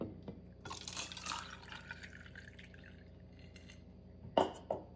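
About 6 ounces of cold water splashes and trickles into a glass over ice, followed by two sharp clinks of ice near the end.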